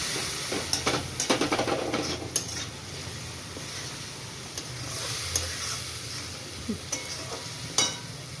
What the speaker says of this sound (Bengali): এই ধনে জিরে একসঙ্গে রেখেছি দিয়ে দিচ্ছি, এই কাশ্মীরি লঙ্কা দিচ্ছি, দিয়ে এবারে আমি এই নাড়ছি।